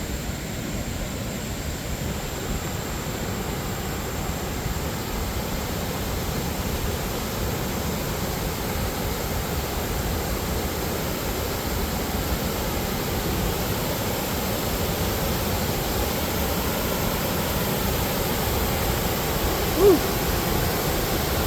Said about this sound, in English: A lot of water rushing.